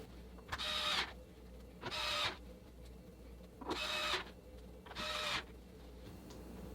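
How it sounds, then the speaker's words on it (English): Power screwdriver driving four screws into a OneWheel GT during a Floatlife Lifesavers install, four separate whirring bursts about a second each with short quiet gaps between, close by. "We'll put in our 4 screws."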